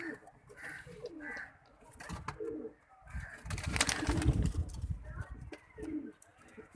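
Pigeons coo repeatedly in soft, low throaty calls, close by and fairly loud, with a brief rustle of movement in the middle; no wing flapping stands out clearly.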